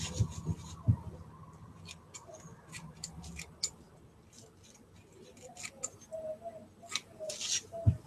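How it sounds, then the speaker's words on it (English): Scissors snipping paper for handmade Christmas tags: a scattered series of quiet, crisp clicks and snips at irregular intervals, close up, with soft rubbing and handling noises between cuts. "Let's cut a piece and see how it goes."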